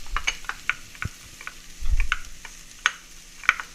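Chopped garlic, about four cloves, is stirred into toasted spices in a pan, giving a low sizzle broken by sharp utensil scrapes and clicks against the pan at irregular intervals, close and moderately quiet.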